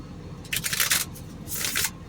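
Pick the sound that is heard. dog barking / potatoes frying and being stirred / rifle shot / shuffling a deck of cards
shuffling a deck of cards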